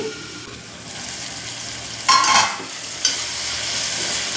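Egg and tomato pulao sizzles steadily in a pan, with a couple of louder scraping stirs partway through. It is close and continuous, with no talk.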